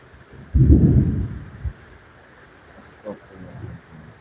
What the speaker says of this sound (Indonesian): Kalian dengar sendiri geluduk ya, hujan begitu deras.